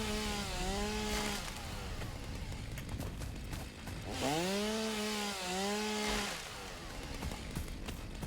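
A chainsaw in the Satisfactory video game cutting down trees: two long bursts of revving, whining motor with rising and falling pitch over a continuous background hum.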